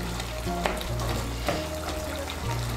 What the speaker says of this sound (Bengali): আর এভাবে খন্তা দিয়ে আলুগুলোকে একটু ভেঙে দেব।